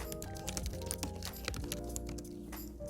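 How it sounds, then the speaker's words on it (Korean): Fast, unrestrained typing on a Lenovo P11 keyboard cover, a dense stream of quick, close laptop-style key clicks with occasional heavier strokes, steady and moderately loud, with no voices. "조금 빠르게 소음 신경 쓰지 않고 타이핑을 했을 때의 소리입니다"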